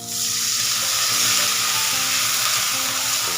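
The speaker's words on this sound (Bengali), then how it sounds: "এখন আদা রসুন বাটাটা দিয়ে দিলাম, জলটা দিয়ে দিই" Fried onions with ginger garlic paste and water sizzling loudly in a pan, a dense, steady hiss and crackle that continues for the whole stretch, close and unbroken, with no voices.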